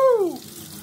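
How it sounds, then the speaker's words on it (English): Cold water gushes briefly from a kitchen tap in a short, loud burst with a falling tonal whoosh, close by, fading within a second and no talk over it. "Let's put a bit of cold water running."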